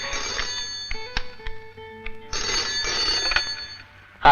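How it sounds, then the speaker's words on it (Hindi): A telephone rings in a short electronic trill, pauses, then rings again more fully, fairly close and clear with no talking. "फोन है।"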